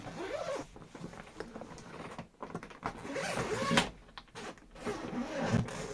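A suitcase zipper is pulled open in several quick, close raspy runs with short pauses between them, loud and nearby, with light handling rustle around it.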